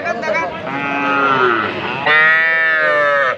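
Calves mooing, one a Sahiwal and one a local breed: long, drawn-out bawls, loud and close, one call giving way to a second louder, steadier call.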